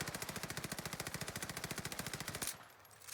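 Type 100 submachine gun firing in the video game Warzone, a rapid, steady burst of evenly spaced shots lasting about two and a half seconds before cutting off abruptly.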